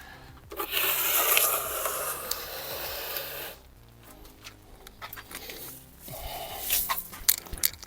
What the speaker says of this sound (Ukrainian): Я змочую її водою і починаю приглажувати.